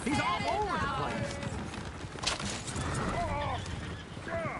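Horses in Red Dead Redemption 2 whinny and neigh repeatedly, with clip-clopping hooves and a busy, noisy scene behind them.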